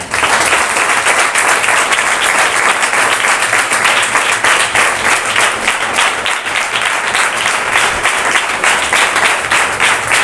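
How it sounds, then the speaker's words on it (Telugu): Loud, sustained applause from an audience in a church hall, honouring the village sarpanch, filling the whole stretch as a dense, steady wash of clapping with no break. "మనం గట్టిగా సర్పంచ్ గారికి ఒకసారి చప్పట్లు బట్టి"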